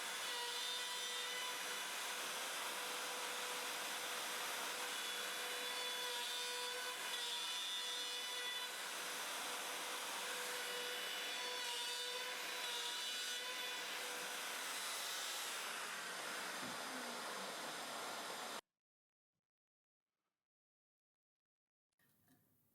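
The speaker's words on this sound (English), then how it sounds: "The X motion is done by turning the handle with the left hand on the front of the mortiser" Homemade X-motion portable mortiser milling wood, a loud continuous whining router roar with grinding cutting noise that holds for most of the time, then cuts off into silence before a brief faint noise returns.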